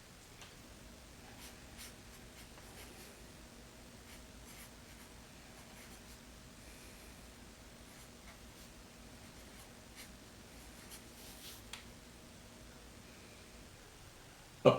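A pen or pencil scratches faintly across paper in a quiet room, with soft, irregular strokes and a sharp little knock at the very end.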